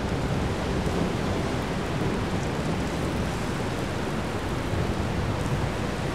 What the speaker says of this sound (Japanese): 雨が結構降ってるんでね